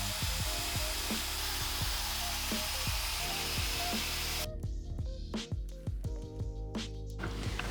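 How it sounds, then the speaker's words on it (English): A blow dryer aimed downward at long hair roars loud and steady close by for about four seconds, then cuts off, leaving faint handling clicks and rustles. "I'm gonna point blow dryer down to create extra glossiness"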